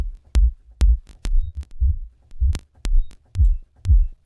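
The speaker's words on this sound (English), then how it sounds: "Sub bass." Deep sub-bass drum hits from the MDrummer drum plugin thump in a steady pattern, each a loud, booming low pulse with a sharp click at the onset, about nine hits over four seconds, played alone.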